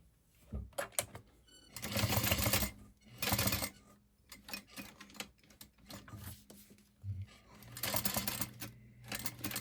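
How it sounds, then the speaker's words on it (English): A sewing machine top stitches around fabric in several bursts of rapid mechanical whirring, some longer and some short, with quiet pauses between. "we're just going to top stitch all the way around at 1/8 of an inch"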